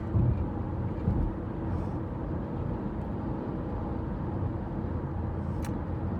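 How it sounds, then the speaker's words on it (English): Steady low rumble inside a moving car, a constant road and engine drone with no talk and only slight variation in level. "I'm sorry I'm in the car, so it might be a little noisy"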